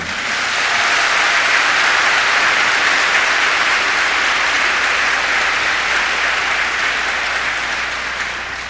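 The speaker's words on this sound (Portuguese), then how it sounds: "Give the Lord a big clap for this." A church congregation gives a long, even round of applause, a dense steady roar of many hands that swells early and gently eases toward the close with no speech over it.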